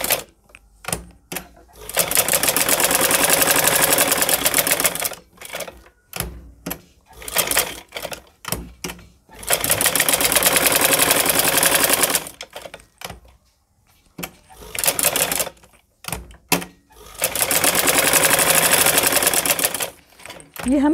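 Sewing machine stitching a straight seam in repeated bursts of fast, even rattling, several runs of two to three seconds separated by pauses with handling noises.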